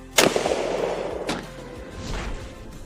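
A shotgun slug fired into a block of ballistic gelatin: one loud, sharp gunshot blast followed by a second crack and a fading rumbling tail, with no talk.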